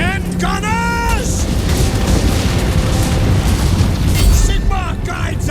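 Volleys of crossbow and gunpowder fire in a Warhammer fantasy battle, loud booming bursts and cracks over a dense roar of battle noise, with shouted voices in the mix.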